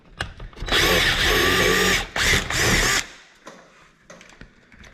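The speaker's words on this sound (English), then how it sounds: "And so we're going to drill this through." A power drill bores through a plastic body panel on a Can-Am Maverick X3 side-by-side, whining loudly in a sustained burst, pausing briefly, then running again before spinning down to quieter handling clatter.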